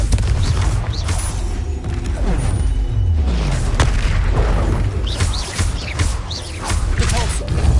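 A Confringo blasting spell goes off in Hogwarts Legacy amid ongoing combat, with loud booming bursts and rumbling impacts layered over a dense, continuous battle din and some voice.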